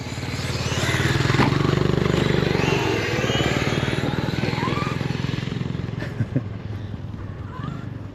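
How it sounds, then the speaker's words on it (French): A motorcycle engine drones steadily at close range for several seconds, swelling slightly and then easing, with a faint rattling clatter underneath. "Moto."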